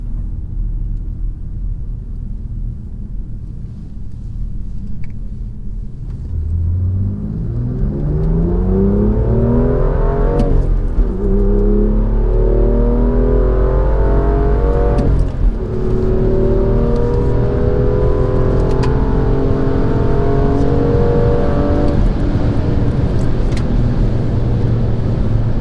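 A car engine accelerates hard on a lap of the Nürburgring, the revving tone rising steadily through several gear changes into a loud, sustained roar up close.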